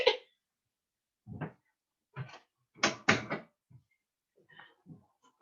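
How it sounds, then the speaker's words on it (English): A room door is shut after a dog gets in, with several short, close knocks and thuds of the door and handle separated by quiet gaps. "I'm just going to take 1 second to close my door again."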